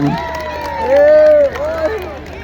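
A crowd cheers and shouts together at a Loy Krathong festival beauty pageant in Thailand, a loud swell of voices rising in the middle and then easing, with no clear clapping standing out.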